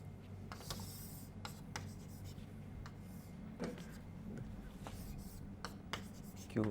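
Chalk or a pen scratches and taps on a board as a graph is sketched during a physics lecture, faint intermittent strokes over room hum and a murmuring voice.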